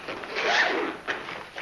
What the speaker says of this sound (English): These zippers are all double zippered.